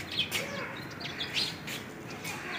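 Small birds chirp and tweet in brief high calls while flying into a nest kept for them at home in the evening, with steady faint background noise.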